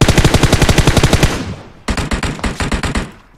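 Rapid automatic gunfire in PUBG Mobile, two long loud bursts of closely spaced shots separated by a short gap, with no talk over them.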